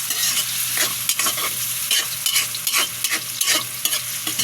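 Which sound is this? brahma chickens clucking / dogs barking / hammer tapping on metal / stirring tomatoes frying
stirring tomatoes frying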